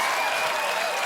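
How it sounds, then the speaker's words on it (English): Brief, soft clapping passes as a golf clap during a comedic news segment, an even patter of hands lasting about a second at moderate level. "That deserves a golf clap."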